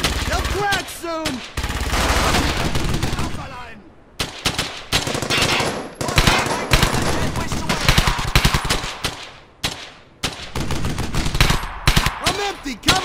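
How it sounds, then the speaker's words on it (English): Sustained bursts of machine-gun and rifle fire in the WWII shooter Brothers In Arms: Hell's Highway, loud and close, with repeated rapid volleys broken by brief pauses and some shouted voices mixed in. "Keep firing."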